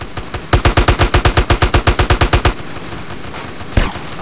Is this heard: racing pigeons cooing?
no